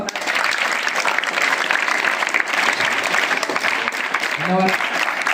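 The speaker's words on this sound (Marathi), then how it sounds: "एकदा तुमच्याकडे जोरदार टाळ्या वाजवा" A crowd applauds loudly and steadily at a ghazal poetry event, with dense clapping throughout and a brief voice near the end.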